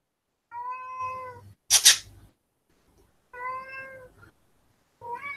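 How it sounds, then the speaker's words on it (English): A cat meows loudly and repeatedly, three drawn-out, plaintive calls close to the microphone with a brief rustling burst between the first two, in an otherwise quiet room. "You could probably hear that is Lucy meowing her head off at the top of her lungs"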